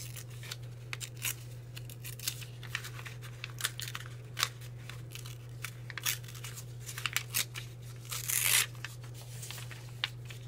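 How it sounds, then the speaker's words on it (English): A page is torn out of an art journal, giving a few short ripping and crinkling paper bursts, the loudest near the end, over a steady low hum with no talk. "now we're just going to tear this page out, make it smaller."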